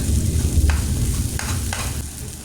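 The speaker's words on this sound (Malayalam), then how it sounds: "ഒരു അഞ്ച് മിനിറ്റോളം തന്നെ വഴറ്റിയെടുക്കേണ്ടതായിട്ടുണ്ട്" A masala mixture for chicken curry sautés in a pan, a dense, close sizzle with a few scraping stirs of a spoon breaking through now and then.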